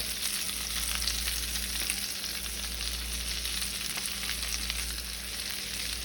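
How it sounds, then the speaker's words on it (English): Garlic fries in a pan for honey garlic glazed salmon, a dense, constant sizzle that stays loud and even from start to finish, close by with no voices. "Next, I'm going to go in with my garlic."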